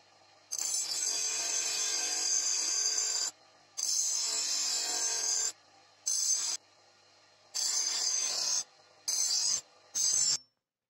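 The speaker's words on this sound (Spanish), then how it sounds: "Pues llegó la hora de limar." Hand file rasping along the steel of a homemade knife cut from a plow disc: six bursts of bright, scraping strokes, long at first and then shorter, with brief pauses between them and no voices.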